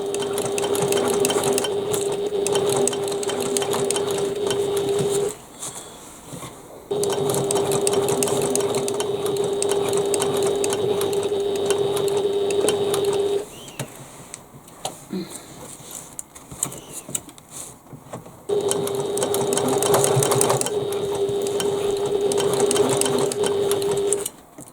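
A sewing machine stitches a bag seam in three long, steady runs of about five to seven seconds each, loud and close, with quieter gaps of fabric handling between them.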